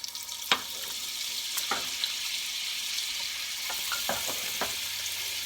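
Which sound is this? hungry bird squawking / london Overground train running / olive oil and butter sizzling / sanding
olive oil and butter sizzling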